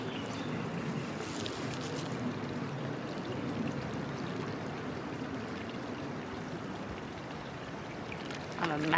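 Water poured from one container into another outdoors, a steady broadband splashing pour lasting throughout, fairly close, with light background noise and a brief louder splash at the end.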